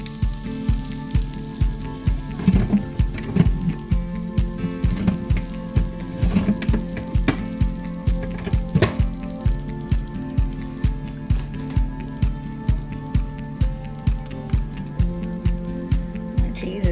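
A chaffle with cheese cooks in a chaffle maker, sputtering and sizzling with a steady run of rhythmic popping bursts throughout, fairly loud and close.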